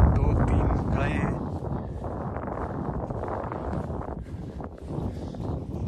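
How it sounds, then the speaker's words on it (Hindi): Strong gusts buffet the microphone beside a lake, a steady loud broadband roar of wind that swells and dips slightly throughout without letting up. "स्पीकर में आवाज़ तो आ रही होगी हवा की, मतलब सही तेज़ हवा चल रही है"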